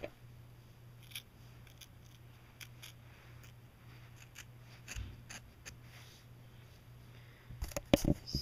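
Quiet snips of scissors cutting pieces of yarn into different lengths, several soft scattered clips with brief pauses and a few louder, closer cuts near the end.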